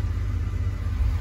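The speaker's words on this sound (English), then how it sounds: "We'll start it up, see how she runs. No dashboard lights, smooth idle" A 2009 Ford F-150 truck idling smoothly, a low steady engine rumble with an even pulsing throb, close and continuous with no voices.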